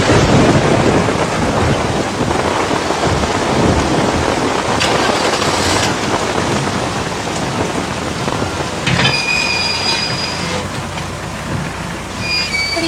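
Heavy rain pours steadily throughout a thunderstorm, with low rumbling thunder rolling underneath and no voices present.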